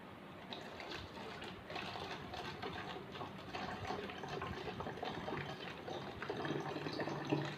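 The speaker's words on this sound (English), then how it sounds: "I am filling this water bottle with water." Water pours into a plastic bottle in a steady, moderately loud gushing stream that continues throughout at a fairly even level. No talking is heard.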